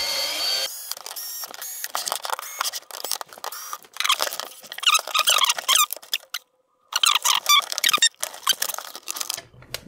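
Screws squeak and creak as they are turned out of a Toshiba T1000 laptop case, close and irregular, with clicks and scraping bursts separated by brief silences.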